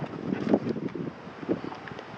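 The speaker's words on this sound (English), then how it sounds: "As you can hear, it's quite windy." Steady gusty wind at a surf beach buffeting and rumbling close up, with fluctuating low roar throughout and no clear voices.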